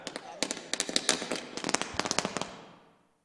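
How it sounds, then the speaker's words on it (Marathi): Firecrackers go off in a rapid string of sharp pops and crackles at a local tournament cricket match, dense at first and then thinning out before fading to quiet. "या दरम्यान आपण पाहू शकतो फटाक्यांच्या आतिषबाजीने"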